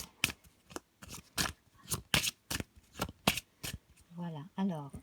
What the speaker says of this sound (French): je coupe, je retourne une partie des cartes